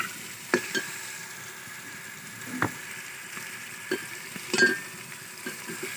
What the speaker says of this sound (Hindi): अब इसमें मैंने टमाटर और जो मिर्ची काट के रखी थी वो डाल देती हूँ।